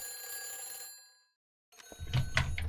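A telephone rings in the Silent Hill 3 video game: a loud electronic ring that fades into a brief silence, then resumes alongside rumbling game sounds.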